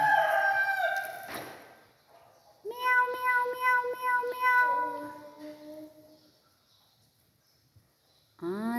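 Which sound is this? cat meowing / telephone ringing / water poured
cat meowing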